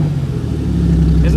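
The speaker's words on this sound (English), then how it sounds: "Rev the shit out of it." An old Regal derby car engine, left sitting for three months, revs close by in a short, loud burst with a deep rumbling drone that rises slightly toward the end.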